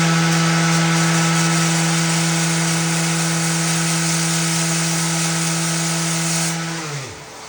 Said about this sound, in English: so I'm going to have to sand.